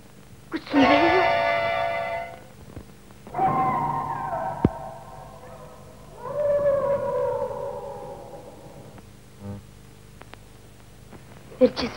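A dog in a classic Pakistani film lets out three long, mournful howls, each rising and then sliding down, separated by quiet gaps, with a faint sharper sound near the end.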